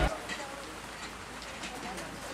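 Steady rain falls outside a café in Leiden, a constant soft hiss of drops close by, with a voice talking over it.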